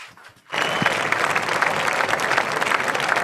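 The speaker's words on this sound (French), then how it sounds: "donc ça applaudit très fort" A hall full of students at a launch event applauds loudly, a dense, sustained burst of clapping that starts abruptly after a brief quiet moment and holds steady to the end.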